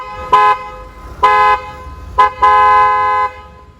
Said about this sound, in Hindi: तो भाई ऐसा कुछ जो है अपना हॉर्न है भाई